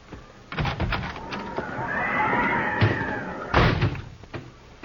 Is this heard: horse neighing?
yes